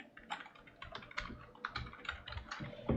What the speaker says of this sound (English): first go to Start and then type in Device Manager